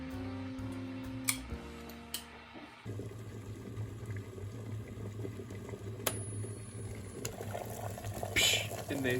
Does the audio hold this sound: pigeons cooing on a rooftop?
no